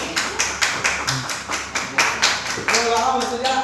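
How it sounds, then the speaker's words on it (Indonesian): A classroom gives a student a short round of applause: a dozen or so rhythmic claps ring out close and fairly loud, ending in a quick scattered flurry. "Beri aplaus untuk Zora."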